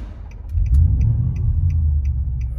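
A car refuelled from a 20-litre jerry can catches and settles into a loud, close, steady idle rumble, with faint regular ticking riding over the engine.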